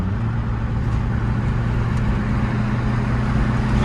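A 2010 Chevy Aveo cruises on the freeway, heard from inside the cabin as a loud, steady drone of engine and road noise with a low rumble, unbroken and with no talking.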